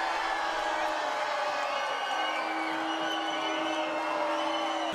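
Dense crowd noise at a Pirate's Dinner Adventure dinner show, a continuous roar of cheering and whooping voices filling the room at steady loudness throughout.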